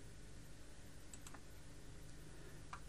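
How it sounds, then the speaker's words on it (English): A few faint, isolated clicks of a computer mouse sound against quiet background noise. "then I'm going to click on done"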